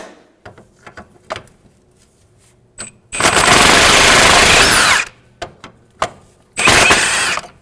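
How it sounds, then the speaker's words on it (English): Power tool whirring in two bursts, a long one of about two seconds and a shorter one, loosening a front sway bar link nut on a 2007-2012 Nissan Altima, with scattered clanks and taps between. "Now that I know I have a good vice grip going on, I'll switch to my socket."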